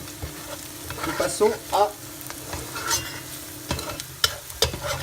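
Curry with a spoonful of turmeric is stirred in a pan, a soft scraping and shuffling with light sizzle, close up, with a brief spoken phrase from a person partway through.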